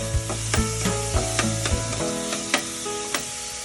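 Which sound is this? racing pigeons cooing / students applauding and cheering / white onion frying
white onion frying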